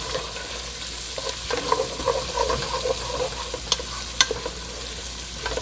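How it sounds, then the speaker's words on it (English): A spoon stirs onions and celery in a soup pot for leek and potato soup, giving soft scraping and sizzling with a few sharper clinks, close and steady with no talk. "And we give it a little bit of a stir."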